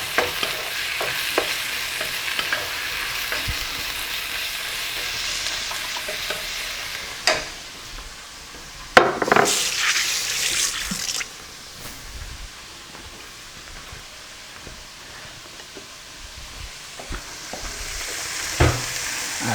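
Round steak sizzling in a modest amount of oil in a pan for Persian khorak bademjan, with steady frying hiss and repeated scraping stirs, a louder burst of sizzle midway, no talking.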